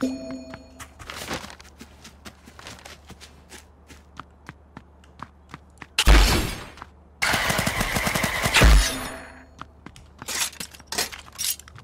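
Gunfire rattles in the Rapture Rejects battle royale game, with scattered single shots and footsteps, then two loud sustained bursts of rapid automatic fire with glassy shattering between six and nine seconds, followed by more sporadic shots.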